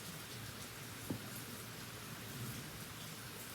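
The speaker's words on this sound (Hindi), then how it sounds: "आज रायपुर में बारिश बहुत है," Heavy rain pours down in Raipur, a steady, dense hiss that fills the whole stretch with only faint bumps, and no one speaks.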